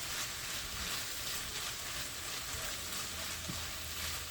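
Chopped tomato sizzling in a frying pan while keema cooks, a steady soft hiss and crackle of frying throughout, fairly quiet and uninterrupted.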